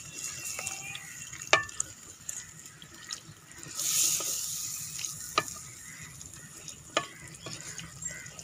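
Cauliflower florets stirred into frying masala in a pan for tandoori phool gobi, with a soft steady sizzle, scattered scraping spoon strokes and a brief louder hiss midway.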